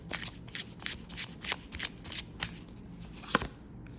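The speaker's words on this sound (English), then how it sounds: "Let's draw one tarot card to get an advice from the universe." Tarot cards are shuffled by hand in a steady run of crisp riffling bursts that sound close and clear, with no talking.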